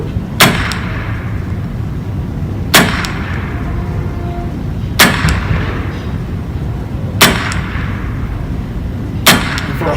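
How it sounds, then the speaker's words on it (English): Five loud gunshots from a roughly 100-year-old firearm, spaced about two seconds apart, each a sharp crack with a ringing tail, the spent shell ejecting from the port after each shot. "That's a great shot on the left side of the shell coming out of the port."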